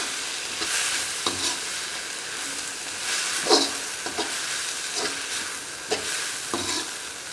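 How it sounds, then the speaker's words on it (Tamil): Egg fried rice with vegetables stirred in a hot pan for Schezwan egg fried rice, a steady sizzle under repeated scraping strokes of a spatula against the pan, close and alone with no talk. "இப்போ வந்து நம்ம காயோட அதை நல்லா கலந்து விட்டுக்கலாம்."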